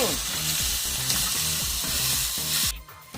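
Food seasoned with black pepper sizzles loudly and steadily in a pan, with rhythmic stirring and scraping underneath, close up; the sizzle cuts out near the end.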